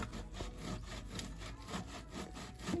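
Plant-based roasted garlic lentil cheese is rubbed against a grater in quick, rhythmic strokes, a soft, close, scratchy rasping repeated several times with no talk.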